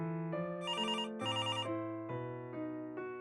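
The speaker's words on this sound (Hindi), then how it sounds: "ये मोबाइल की जगह लैंडलाइन खनखना रहा है।" A landline telephone rings with a tonal electronic trill, repeating ringing bursts that stand alone, loud and close.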